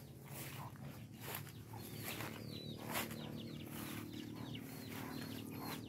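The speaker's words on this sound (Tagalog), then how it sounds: "Ang ating mga manok. Takot sa tao." Chickens on a goat farm cluck and chirp in short scattered calls over a steady outdoor background, with a few brief bursts that may be wing flaps, all fairly faint and distant.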